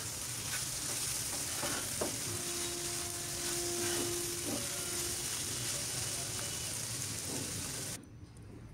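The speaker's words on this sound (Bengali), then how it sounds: "এখন শুধু ভাজবো।" Roti frying in a pan, a constant moderate sizzle with a brief faint mechanical tone in the middle, cutting off abruptly just before the end.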